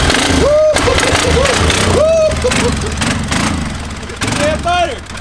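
A pit bike's small engine runs in gear nearby, with a rough rattling drone that surges and dips, while voices talk loudly over it.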